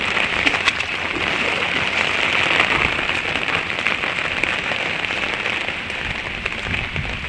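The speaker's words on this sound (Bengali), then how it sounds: "একভাবে বৃষ্টি হচ্ছে জল" Steady rain falls continuously outdoors, a dense even hiss of drops on surfaces holding at a constant level throughout, with no voices.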